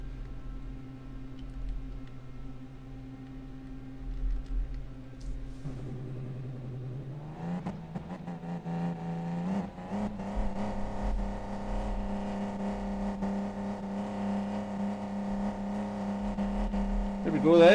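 A 2016 Lexus race car's engine in Gran Turismo Sport hums at a steady idle, then climbs into a sustained rising rev and holds a strong drone, with a voice speaking faintly over it.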